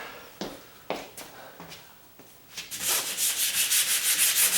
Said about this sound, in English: I want to sand first.